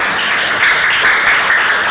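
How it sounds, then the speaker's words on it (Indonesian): Schoolchildren in a classroom clap for a classmate, a loud, close patter of many small hands, steady throughout. "tepuk tangan untuk Faris anak-anak"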